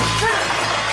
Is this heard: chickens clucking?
no